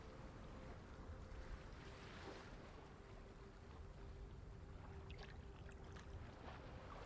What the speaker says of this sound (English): Can we hear anything besides the crashing of waves?